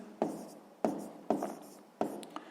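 Pen strokes as numbers are written down while solving a fifth-grade arithmetic exercise, four short distinct scratchy marks spaced about half a second apart, close and fairly quiet with no talking.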